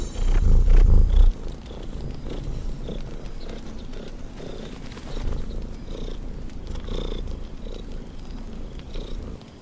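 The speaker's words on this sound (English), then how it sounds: "My cat decided to join me on my recording session today." A house cat purring close by in a steady low rumble that continues throughout; a louder low-pitched stretch at the start, with no speech.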